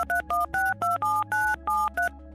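A rapid sequence of about nine touch-tone telephone dialing beeps, each a short two-pitch tone with brief gaps between, clear and alone over a low background hum.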